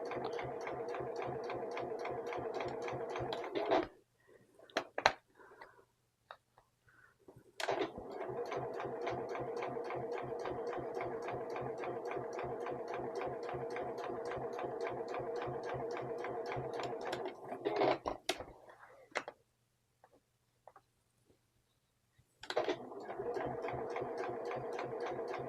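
Sewing machine stitching a jelly roll rug strip, a steady rapid mechanical whir of the needle running in long bursts, pausing twice for near-silent adjustments before starting up again, close and clear.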